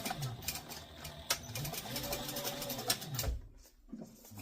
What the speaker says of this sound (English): you're only sewing up to that seam line. And then you're back stitching.